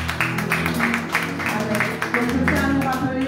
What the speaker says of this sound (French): Acclamons pour cela.